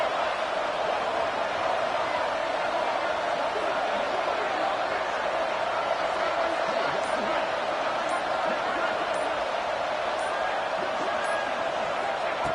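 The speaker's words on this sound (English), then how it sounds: "Listen to this crowd noise. This stadium is vibrating." Dense, steady roar of a packed stadium crowd in the college football video game NCAA 26, a loud, unbroken wash of cheering and noise with faint scattered accents throughout.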